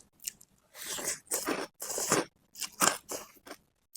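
Bites into a very crispy, freshly fried snack give loud, close crunches in irregular bursts, each separated by short pauses of silence.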